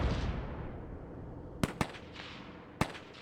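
Infantry return fire in the tank game GHPC: a few sharp, distant rifle cracks and bangs stand out over a steady low rumble of battle, with two quick shots close together and another a moment later.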